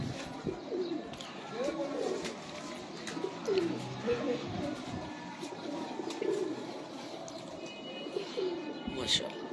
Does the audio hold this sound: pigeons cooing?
yes